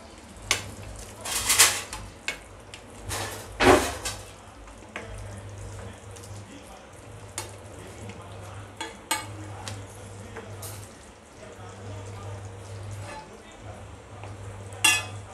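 Boiled eggs tumble into a simmering masala gravy for Afghani anda korma, with a spoon scraping and clinking against the pan over a soft, steady sizzle.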